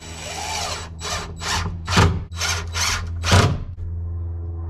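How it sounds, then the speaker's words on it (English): A power drill drives small L-bracket screws into the wooden side of a truck bed camper in six or seven loud bursts of whirring, each lasting under a second, close by and with no talk. "I'm just gonna use the little screws that came with the L brackets just to kind of secure it for now"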